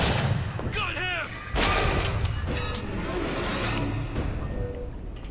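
Gunfire in BioShock Infinite, with several sharp shots and bursts mixed with game effects and shouting voices across a dense, busy battle soundscape.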